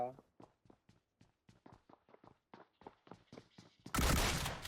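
Gunfire in the video game PUBG Mobile: a rapid series of sharp, evenly spaced shots or thuds runs throughout, followed by a sudden loud burst of noise near the end.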